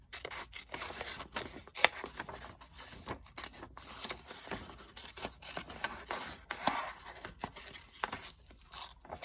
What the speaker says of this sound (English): You are using your helper hand to guide the paper, and you are just cutting with your scissors.